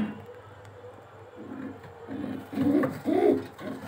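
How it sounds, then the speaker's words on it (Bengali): A racing Homa pigeon gives a couple of soft, low throaty coos close by while being handled, over faint background noise and handling sounds. "এই যে কবুতর"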